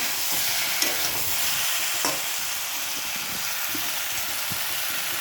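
A pumpkin, potato and pointed gourd curry cooks in a pan, giving a steady broadband sizzle and hiss with faint occasional stirring clicks, close and continuous throughout.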